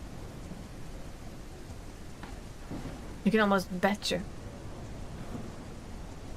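Rain and thunder in a video game's weather: a steady hiss of falling rain with a low rumble underneath. A voice briefly speaks partway through.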